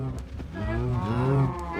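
Video game cows in a cow pit give a loud, close, drawn-out moo that swells and then fades, with a second bovine call overlapping and no voices.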